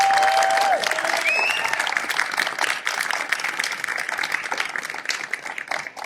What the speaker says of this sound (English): give a big round of applause to the people who've organised this